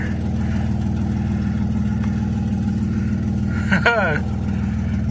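A Dodge car engine running while being driven, giving a steady low hum throughout, with a short rising whine near the end.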